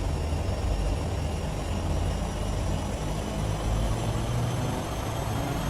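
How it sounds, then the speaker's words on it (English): Turbine engines of a Duke V2 aircraft in a flight simulator game spool up in a steady, broadband roar with a faint high whine, holding at constant loudness throughout. "You'll hear those engines spool up realistically."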